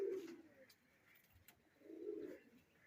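Pigeons coo softly nearby, two low murmuring calls separated by a pause, faint against a quiet background.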